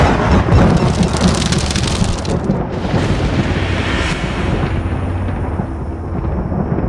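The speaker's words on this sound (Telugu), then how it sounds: "అవి ఉరుములురా" Heavy rain hisses steadily on outdoor surfaces while loud rolling thunder rumbles through a storm, with a sharp crack early on before the downpour settles into a constant roar.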